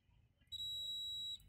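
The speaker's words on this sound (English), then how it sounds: "Okay, it's beeping." A multimeter in continuity mode beeps while testing a laptop power button switch: a single steady electronic tone holds for about a second, loud and close, over a low background hum.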